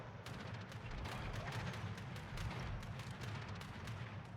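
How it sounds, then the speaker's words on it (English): Anti-aircraft guns on the battleship Richelieu fire in a naval video game, a dense, steady barrage of rapid overlapping pops over a continuous rumbling roar. "Anti-aircraft guns are firing."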